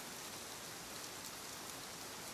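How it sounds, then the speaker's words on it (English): Soft rain patters steadily and evenly, a gentle hiss of falling drops heard alone at low volume. "The rain begins as a whisper, a soft pattering"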